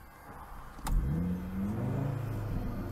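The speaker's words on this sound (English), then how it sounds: "And the sports exhaust as well." An Audi RS3 saloon's 408-horsepower engine revs sharply once through its sports exhaust, a loud exhaust bark, then settles into a deep, rumbling idle close by.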